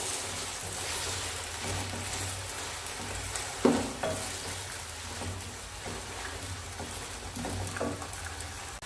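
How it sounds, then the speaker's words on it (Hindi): Chicken fries in a pan for karela gosht with a steady, close sizzle and crackle throughout. One brief clatter of a utensil sounds midway, and no one speaks. "चिकन को जो अच्छी तरह वो फ्राई कर लेंगे।"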